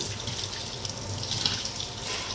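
Tap water runs steadily into a sink while seer fish is washed for a tawa fry, a continuous close hiss and splash with no talk.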